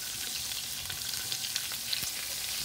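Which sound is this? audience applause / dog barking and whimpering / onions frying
onions frying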